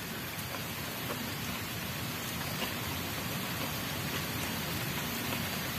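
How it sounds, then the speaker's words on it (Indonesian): Light drizzle falling over a rural garden, a steady soft patter of rain that stays even and unbroken at low level throughout, with no voices. "Kebetulan ini agak gerimis juga dari kebun"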